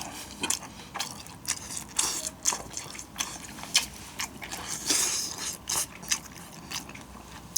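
Close crunching bites and chewing of crispy, pan-fried smoked pork belly bacon wrapped around rice cake. The bursts are irregular and repeated, with no talk.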